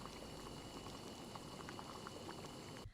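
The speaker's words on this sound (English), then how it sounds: "You can also boil the wiener in a pot of water" A wiener boils in a pot of water, giving a steady close bubbling and gurgling that continues evenly before cutting off abruptly near the end.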